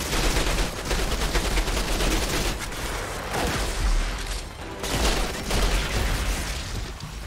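Sustained rapid gunfire from the player's weapon in the shooter Outriders, loud, dense bursts continuing almost without pause, with heavy low booms underneath.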